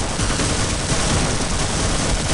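Rapid, continuous automatic machine-gun fire in a video game, Half-Life mod Bootleg Squadron, in a dense, unbroken burst, loud and close, with no talking.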